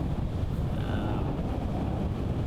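Steady wind buffets the microphone on an outdoor disc golf course at a par 3 hole over a dam, a constant low rumbling roar that never lets up.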